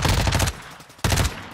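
Video game gunfire comes in two bursts of rapid automatic shots, the first about half a second long and the second about a second long after a brief lull. Both are loud and close, with no talking.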